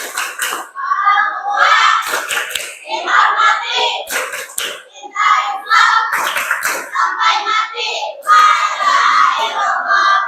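Schoolchildren in an Islamic class, grade 8 girls, chant the tepuk anak soleha clapping rhyme in loud unison, their voices broken by sharp rhythmic hand claps.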